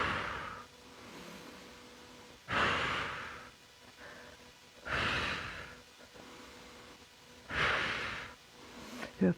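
Slow exercise breathing during a conditioning workout, with three long, close, audible breaths spaced a few seconds apart and quiet pauses between them.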